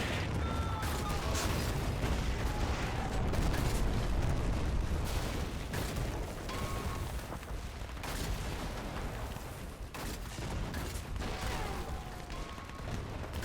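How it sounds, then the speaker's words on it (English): Distant battle gunfire between French and German forces in Men of War Assault Squad's 1940 invasion of France: a continuous rumble of crackling shots, booms and thuds with no pause. "You hear the firecrackers in the background there. It sounds like it, but it's some serious gunplay back there between the French and Germans."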